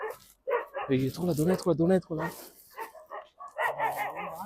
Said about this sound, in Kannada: ಅದು ನಾಯಿ ಬೇರೆ ಬೊಗಳ್ತಾ ಇದೆ.